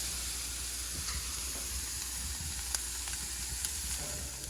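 Beef sizzles on a churrasco grill just after being flipped, a faint, steady crackling hiss with small pops throughout and no talk.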